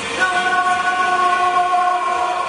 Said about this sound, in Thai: ต้องนั่งรถไฟชั้นสาม